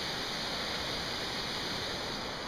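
El Chorro waterfall near Girón, close to Cuenca, Ecuador, gives off a steady, unbroken roar of falling water. The rushing hiss stays even and fairly soft from start to finish, with nothing else heard.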